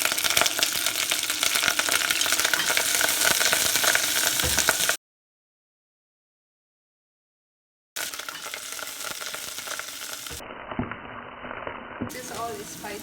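Fresh curry leaves and green chili fry in hot oil with a busy crackling sizzle, cut off by a stretch of silence before the spitting and bubbling resumes.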